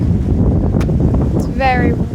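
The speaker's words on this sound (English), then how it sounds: "Wow, it is really windy" Strong wind roars and buffets the microphone steadily outdoors on a windy day, with a brief bird-like squeak and a short voiced sound near the end.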